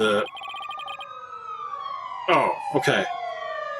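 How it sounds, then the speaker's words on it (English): Police sirens in the video game Dual Destinies wail in overlapping rising and falling tones, with sharp electronic bursts mixed in, while someone briefly speaks over them. "the sirens are getting loud outside, but it's actually in the game"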